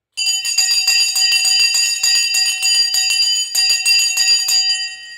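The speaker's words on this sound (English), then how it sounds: "Let's ring that bloody bell and let's get out of here." A loud, fast-ringing bell closing a stock market trading session rattles continuously for about five seconds, a dense metallic clanging that starts abruptly and stops cleanly, heard alone and up close.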